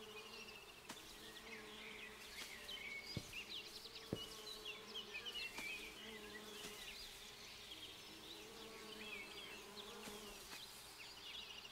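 In the video game Viewfinder, a quiet, continuous hum of buzzing bees carries on for several seconds, with occasional sharper ticks and wingbeat flutters over the drone and no speech.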